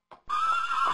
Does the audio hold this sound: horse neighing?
yes